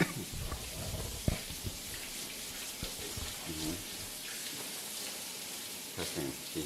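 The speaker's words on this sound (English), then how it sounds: "And then rinse with warm water." Warm tap water runs while hands are rinsed at a home sink. The splashing is soft and steady, with a voice now and then.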